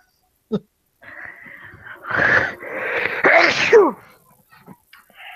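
One loud, drawn-out sneeze builds through a wheezy inhale and bursts near the end, with a brief sound before it in an otherwise quiet room.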